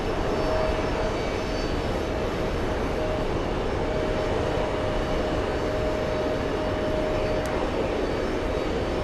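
C-17 military transport arriving at JFK Airport, a steady droning engine roar with a faint sustained whine, continuous and fairly distant throughout.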